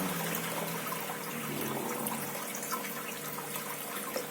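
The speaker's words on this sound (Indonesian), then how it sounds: "Kita kuras terus airnya" Water is drained from a turtle tank, a steady close rushing and trickling flow with a few faint splashes and no talking.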